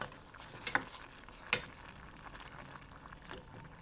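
A pot of grilled fish curry with sour bamboo shoots on the boil, a faint bubbling sizzle with a couple of sharp metallic clinks from a utensil, close and quiet.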